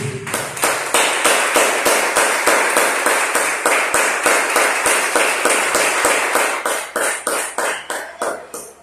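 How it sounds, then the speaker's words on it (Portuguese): A church congregation at a worship service clapping in unison, loud, crisp and evenly timed claps about three per second that continue for several seconds and begin to loosen toward the end. "Aplauda o Senhor mais uma vez."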